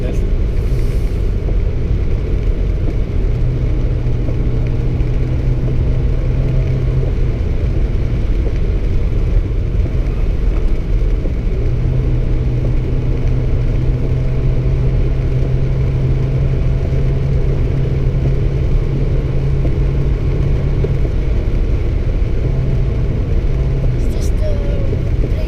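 Car flat out on the Nordschleife, a steady loud engine drone and road rumble running continuously at full speed, with faint talk from inside the cabin.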